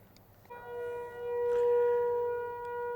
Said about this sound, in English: They're just testing the sirens.